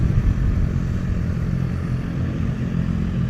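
A group of motorcycles from a biker gang rumbles loudly and continuously nearby at a farm in a Taiwan tribal village. Engines idle and throb steadily with a dense low roar and no talking.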